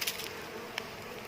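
Worker bees buzz around a honeycomb as honey is harvested from a wild nest, a faint continuous droning hum with a brief louder pass, no voices.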